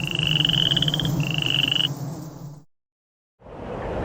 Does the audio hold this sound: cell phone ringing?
no